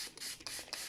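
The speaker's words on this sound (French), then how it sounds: "on vaporise doucement les semences" A spray bottle mists chamomile flower seeds during seed sowing, giving a few short, soft hissing puffs close by with brief pauses between them.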